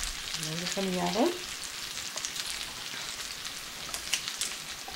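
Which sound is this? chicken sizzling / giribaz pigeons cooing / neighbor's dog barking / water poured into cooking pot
chicken sizzling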